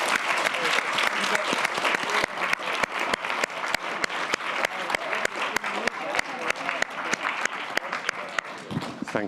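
An audience at an education ethics conference applauds a panel, a sustained dense clapping that stays loud and even for the whole stretch.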